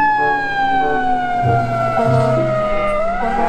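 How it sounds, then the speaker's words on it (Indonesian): A toy fire truck siren wails loudly up close, its tone sliding slowly downward before rising again, with faint clatter underneath. "Mobil truk damkar."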